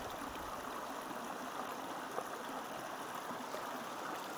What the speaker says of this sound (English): I've never known water to be running here at Baca Campground.